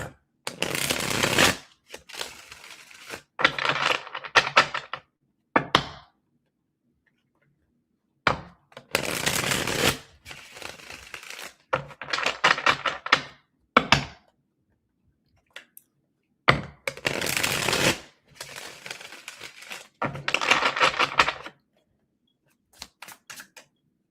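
Bursts of riffling and flapping tarot cards, several long shuffling spells separated by short pauses, close and fairly loud with no talking.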